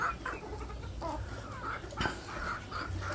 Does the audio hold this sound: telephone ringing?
no